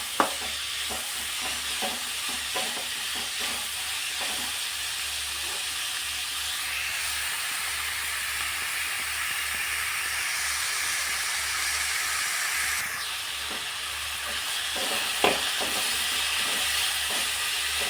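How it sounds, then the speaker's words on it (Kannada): Onions fry in a pan until browned for a village-style Kannada tomato curry, giving a constant close sizzle and hiss with scattered scraping stirs and a low steady hum underneath, no talking. "ಈರುಳ್ಳಿನ ಚೆನ್ನಾಗಿ ಕೆಂಪು ಬಣ್ಣ ಬರೋವರೆಗೂ ಹುರ್ಕೊಳ್ಳೋಣ."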